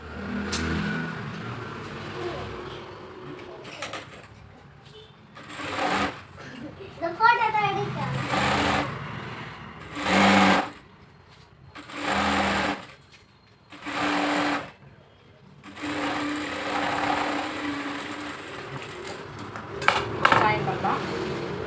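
A sewing machine runs in several short bursts, stitching extra cloth onto a saree, each whirring run loud and close, with pauses between and a person talking through much of it.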